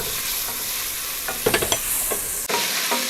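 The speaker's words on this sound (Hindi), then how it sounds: "तमाम स्पाइसेस हम इसमें शामिल कर लेंगे और प्याज के साथ इसे कड़कड़ा लेंगे" Cumin, spices and onion fry with garlic and red chili paste for a beef pulao, a close, steady sizzle with brief scraping stirs in the middle and a spoon clatter near the end.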